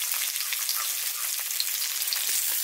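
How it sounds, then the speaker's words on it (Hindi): Onions sizzle and crackle in hot oil, a dense, steady frying hiss with small pops throughout. "अब इधर हम प्याज डाल देते हैं इसको"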